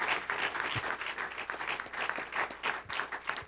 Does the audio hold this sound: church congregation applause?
yes